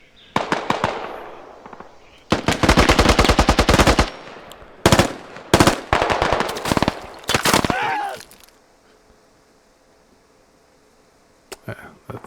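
Machine gun fire in a 20-versus-20 Squad video game match, several loud rapid bursts of automatic gunfire with short gaps between them, followed by near silence and a faint late shot.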